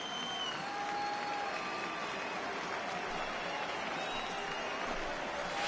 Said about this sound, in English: I can hear the crowd murmuring now, wondering if he hit him on purpose